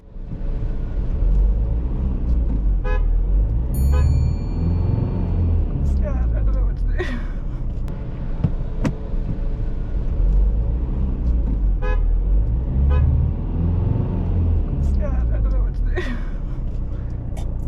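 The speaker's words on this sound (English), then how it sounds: "the vehicle behind had to use their horn" A car horn toots from a vehicle behind a learner car rolling back on a hill start, brief honks heard over steady road and engine noise inside the cabin, with voices talking.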